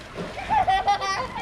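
Water splashes in a pool as children play, a quick burst of splashing heard close up while someone talks over it.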